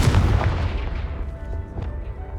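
A Confringo fire spell explodes in Hogwarts Legacy, a loud booming blast that opens the clip and decays into a rumbling tail with a few smaller cracks trailing off.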